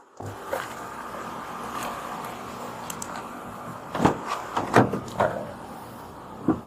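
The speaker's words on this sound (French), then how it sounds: "Attends, ouvre juste la porte." A car door being opened: a low background hum, then a cluster of clicks, a latch release and soft thumps near the end, heard close and fairly quiet.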